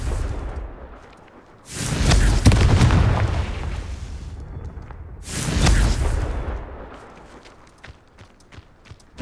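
Two heavy blasts from the Confringo spell in Hogwarts Legacy, each a loud booming burst that rumbles and trails off, spaced a few seconds apart with quieter game ambience between.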